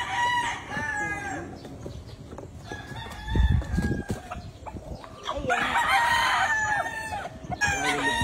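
Brood stag roosters on a Filipino farm crow and cluck, with several crows and clucks at close range, a brief thud midway, and someone speaking briefly.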